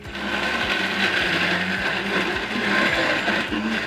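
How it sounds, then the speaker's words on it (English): A high-powered blender whirs continuously as it grinds vegan Nutella, with a steady motor drone and a faint rhythmic pulsing from the jar, loud and close with no talking. "So if you're using a high-powered blender, you're gonna need your little wand here to kind of stir as you go along."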